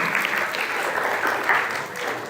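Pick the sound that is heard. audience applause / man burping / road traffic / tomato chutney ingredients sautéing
audience applause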